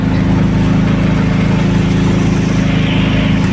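A car engine labours steadily up a very steep hill in first gear on the road to Bhagwati fort in Konkan, Maharashtra, a loud, continuous low drone with no talk over it.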